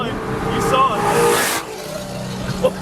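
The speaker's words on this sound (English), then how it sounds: "Did you hear his car burp?" Clean S650 Ford Mustang accelerating hard past the roadside, engine note swelling close and loud then fading, with a short exhaust burp as it goes by; voices chatter over it.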